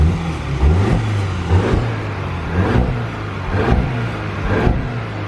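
A VW Polo GTI engine and exhaust rev briefly several times, a muffled mid-range roar rising and falling in short bursts over a steady idle hum.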